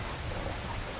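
Rain falls in the video game Skyrim as a steady, even hiss of drops, faint and unbroken throughout the short stretch.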